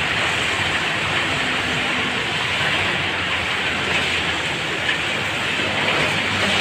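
Steady rain falling hard, a constant close hiss of drops on a surface with no pauses or voices.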